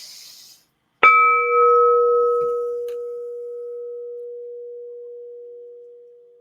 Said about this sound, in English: This bowl, I'm so connected with it. It's actually ringing right now.